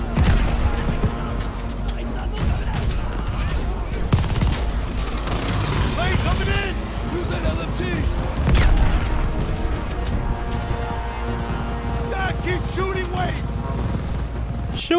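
Heavy cover fire in the video game Call of Duty Vanguard: dense, loud automatic gunfire and booms rolling on throughout, with shouting voices over the battle.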